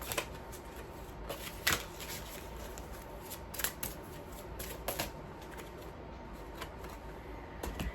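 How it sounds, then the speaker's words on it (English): Oracle cards are shuffled and drawn, giving a run of crisp riffling flutters and sharp snaps with a few louder slaps, close and unaccompanied by speech. "let's see the first card that we're going to be drawing out this week"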